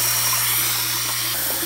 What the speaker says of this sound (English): This pump is way too much airflow for this